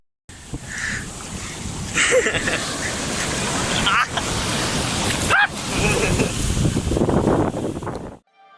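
A tidal surge crashes at Hangzhou, a heavy broadband roar of churning waves and rushing water that swells and drops, with voices audible over the noise.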